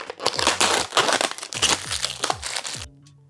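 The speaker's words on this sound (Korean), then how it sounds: "포장지를 한번 뜯어볼게요" Plastic packaging from a two-to-three-serving pollock stew kit is torn and crinkled open nearby, a dense run of crackling rips and crunches lasting about three seconds before stopping abruptly.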